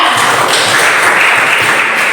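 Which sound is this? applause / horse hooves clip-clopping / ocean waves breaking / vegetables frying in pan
applause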